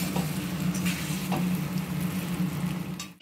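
Fried shrimp tipped into a simmering pointed gourd curry and stirred, giving a steady close sizzle and patter with a few soft scraping knocks from the spoon.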